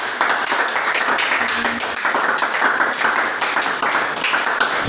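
A church congregation claps together in sustained, dense applause to acclaim Jesus, close and loud throughout with a faint voice beneath.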